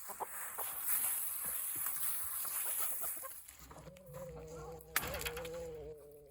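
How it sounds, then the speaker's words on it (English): Backyard chickens cluck and chatter while scattered feed is tossed on the ground for them, with soft scratching in the dirt, a bright continuous hiss of birds or insects, and a sharp rooster-like call near the end. "Let's feed these chickens. They are scratching away happily."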